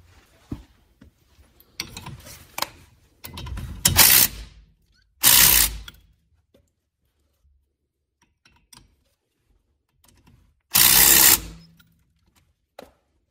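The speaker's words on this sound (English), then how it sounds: "that's when I'm going to use an impact wrench, being very careful not to over tighten this bolt" Impact wrench tightening a brake caliper bolt on a 2008 Toyota Prius during a front brake job, heard as three short loud rattling bursts separated by quieter clicks and handling noise, with a final burst near the end.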